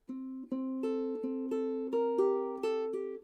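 Plucked ukulele strings in high G tuning: chords strummed one after another, each ringing out and overlapping the last, close and clear.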